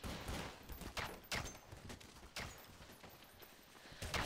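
Bots firing pistols in the video game Counter-Strike: Source: a faint, distant scatter of sharp shots at irregular intervals over quiet background hiss.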